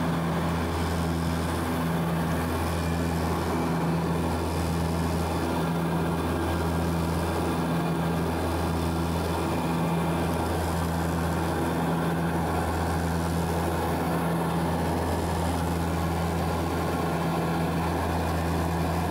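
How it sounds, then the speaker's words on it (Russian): Steady, loud droning cabin noise of an Antonov An-24 turboprop airliner in flight, a constant engine and propeller hum with strong low tones and a broad rushing wash, uninterrupted and without speech. "Ан-24 это по сути как летающий трактор. Все грохочет, гремит."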